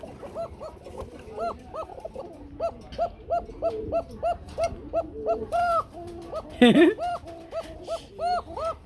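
Pigeons in a loft, including a pair sitting on eggs in a clay pot, coo repeatedly in soft, close, rhythmic hoots, with a brief louder flutter-like burst partway through.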